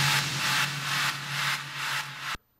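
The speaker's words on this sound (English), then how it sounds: "which is more or less my signature snare fill before the drops, which sounds like this" A snare fill sample used before the drops plays as a run of roughly five noisy, brushed swells that roll evenly into one another, loud and dry, then cut off abruptly into silence.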